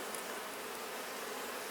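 Honey bees buzz inside an open hive among fairly new frames, a dense, steady, close hum with no breaks or voices.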